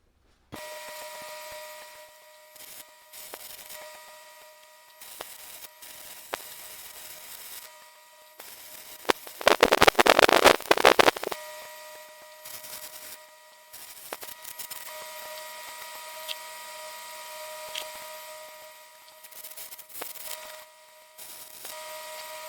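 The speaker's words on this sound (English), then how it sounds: "I got those welded up" A front beam on a 1968 VW Bug is tack welded, with intermittent buzzing, crackling bursts separated by silences and one longer, louder crackling run near the middle, close and dry over a faint steady hum.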